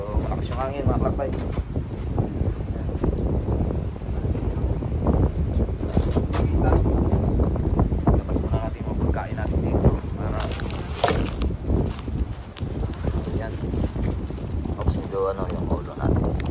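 Strong wind roaring outdoors on a fishing trip in Japan, heavy rumbling gusts buffeting the microphone throughout, with voices talking faintly beneath it.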